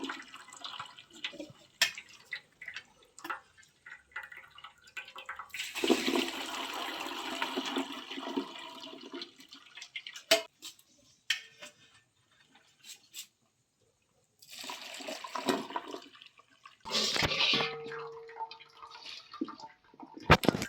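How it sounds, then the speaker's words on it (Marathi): Water drains off boiled turmeric roots that sit in a rice pot and runs down into a vessel below. Splashing pours come in intermittent bursts with quiet gaps between them. "ते पाणी सगळं खाली जाते बघा त्या टोपात"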